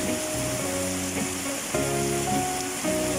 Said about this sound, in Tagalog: napakalakas po yung ulan mga kababayan kasi 3 araw na ito bumabalik ay palagi yung ulan pag ganitong oras